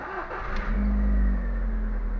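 A Skoda Fabia engine starts up, rising into a steady, close idle rumble with a low hum that continues to the end, with no talking.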